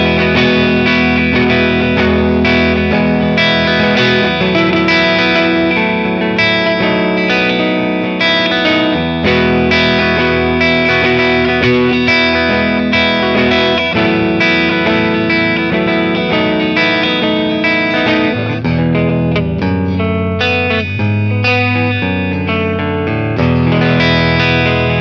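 A Les Paul electric guitar plays through a Matchless Laurel Canyon amp capture on a clean bright setting with a little grit, ringing chords and lines sustained loud and continuous, with no talking.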